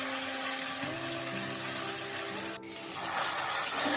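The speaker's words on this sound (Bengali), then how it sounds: "তেল গরম হবার পর আমি এই পেস্টটা সয়াবিনে ঢেলে দিচ্ছি।" Spice paste poured into hot mustard oil with soybean in a pan gives a steady wet sizzling hiss, with a brief dip partway through before the frying noise swells again, close and alone with no talk.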